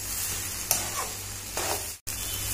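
Vegetable fried rice is stirred in a pan, with a close, steady sizzle broken by a few scraping strokes of the spoon and a brief cut to silence near the end.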